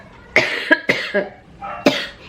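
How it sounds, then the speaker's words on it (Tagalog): A series of harsh, wet coughs: a burst of three or four close together, a pause, then one more hacking cough, loud and near. "Yan yung ubo ko."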